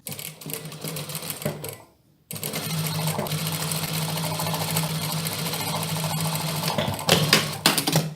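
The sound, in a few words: sewing machine stitching over pinned fabric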